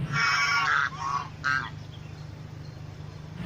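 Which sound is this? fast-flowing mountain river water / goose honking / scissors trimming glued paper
goose honking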